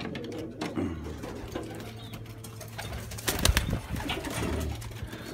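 A young pigeon coos softly near a nest, low repeated murmurs under steady background hum with a louder rustle or flap partway through.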